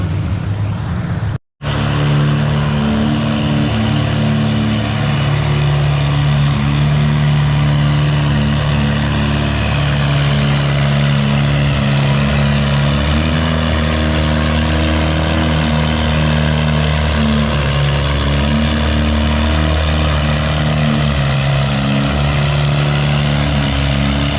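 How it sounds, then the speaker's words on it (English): A pulling tractor at the NW Fall Nationals tractor pull roars at sustained full revs, a loud, continuous droning engine note that holds for over twenty seconds after a brief cutout near the start. "Second class, second tractor coming up."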